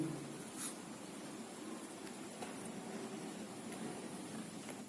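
Pen writing on paper while a journal entry is filled in, with soft continuous scratching strokes and a few brief taps, quiet and close, with no talk.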